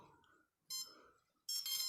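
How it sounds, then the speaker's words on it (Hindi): Beeping from a drone's ESC that is powered up but not calibrating, heard as two separated bursts of bright, steady tone with a quieter gap between them, close and fairly loud. "तो मेरा जो ईएससी है वो सिंपली ऐसे बीप करते जा रहा है।"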